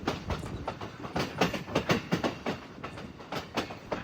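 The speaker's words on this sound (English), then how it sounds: "these 39-foot rail segments are the cause of the distinctive clickety-clack sound" Wheels of a luxury passenger train clatter over 39-foot jointed rail segments in a rhythmic clickety-clack, the regular beats heard close and moderately loud against a steady rolling rumble.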